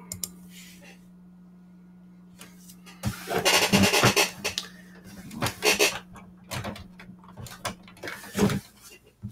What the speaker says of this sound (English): I had to reach and turn off my printer because it's just warming up and getting hot.